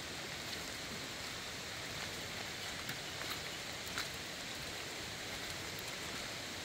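Steady rain falling at a forest campsite beside a creek, a faint, even hiss with occasional louder drops, no voices.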